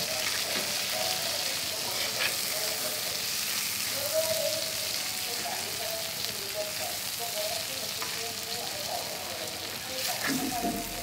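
Stuffed pomfret fish frying in a pan, a steady close crackling sizzle with faint pops throughout and a few light clinks, no voices.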